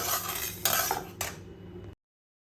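Roasted rice scooped out of a pan, a few close metallic scrapes and clinks of a spoon against the pan over about two seconds, then silence.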